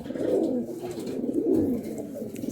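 A caged pigeon gives soft, throaty coos in a couple of rolling bursts, close by and fairly quiet, with no talk.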